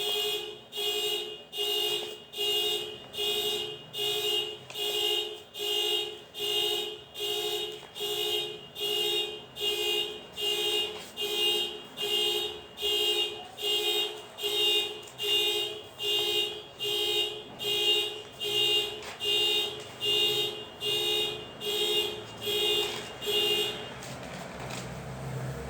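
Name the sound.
alarm ringing in the room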